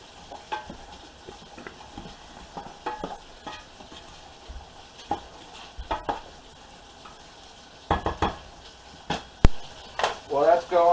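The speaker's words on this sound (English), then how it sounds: "we'll get that stuff stirred up and cooking" Pasta sauce with Italian seasoning being stirred in a pan, with a low sizzle beneath intermittent scraping and clanking spoon strokes, growing busier toward the end, while a person talks in places.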